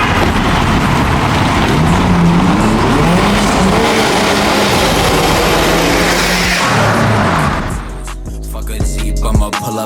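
A turbocharged Toyota Chaser JZX100 roars loudly at night, its engine rising and falling through revs with tire noise, before the sound drops away near the end.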